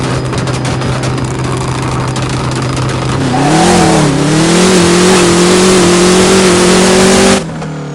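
Drag race car engine in the No Limit Drag Racing 2.0 video game, a steady loud idle that rises into a sustained high rev around mid-clip, then cuts off abruptly near the end.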